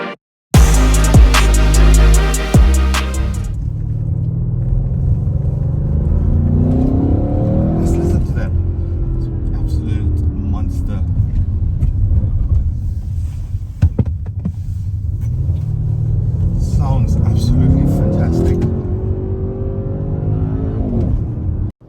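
An Audi RS 6 Performance driven hard outside Johannesburg, its engine revving loudly and rising through the gears in long sweeps, with a brief electronic chime at the start and a voice talking over the drive.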